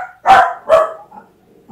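A small dog gives two sharp, close barks in quick succession, followed by a faint whimper and the start of a third bark, with no one speaking.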